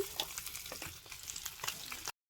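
Cabbage seasoned with salt, cumin powder, chili powder and turmeric stirred and fried in oil for a Bengali chorchori, a steady close sizzle with frequent scraping stir strokes throughout, no talking.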